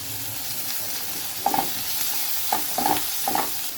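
Onions and a few small shrimp frying in a pan with cumin, a steady sizzle underneath scattered stirring scrapes and clinks, the utensil striking the pan several times in close succession.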